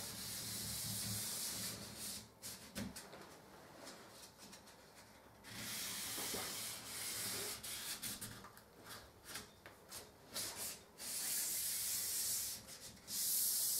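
Hand sanding of wooden staircase parts with the edge of a piece of sandpaper during gloss-paint prep: steady scratchy rubbing strokes, close and fairly loud, in repeated bursts with short pauses and no talk.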